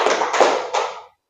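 A group claps together in a call-and-response clapping game at a positive-culture training session. A roughly one-second burst of dense, close hand claps with a few sharper synchronized strikes, then it stops abruptly into silence.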